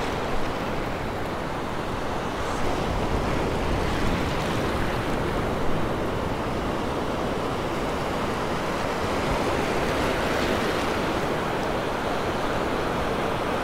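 Ocean surf breaking on a sandbar at a North Naples, Florida beach roars in a steady, continuous wash, with breaking waves rumbling without pause and light wind noise over the microphone.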